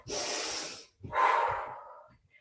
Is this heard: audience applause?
no